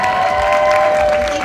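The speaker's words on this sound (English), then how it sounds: "one more round of applause for Nicole, please." Audience applause at a junior miss pageant, a steady wash of clapping from a sizeable crowd throughout, with a faint voice underneath.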